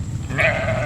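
A sheep bleats once, a short wavering cry at moderate distance over an outdoor pasture background rumble, with no talking.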